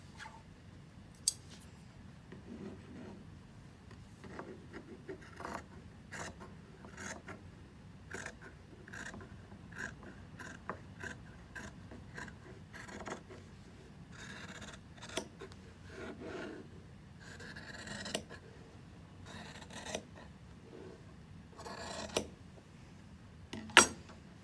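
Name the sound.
scissors cutting fabric along a drawn line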